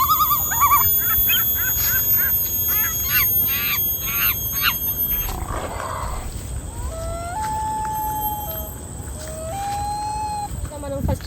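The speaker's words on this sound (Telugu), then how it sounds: "పక్షులు అయితే సౌండ్ చేస్తున్నాయి" Birds call in a Malaysian forest on a hike, a series of shrill, rising chirps and whistling notes over steady insect buzz, fairly close, with a few longer tonal calls near the end.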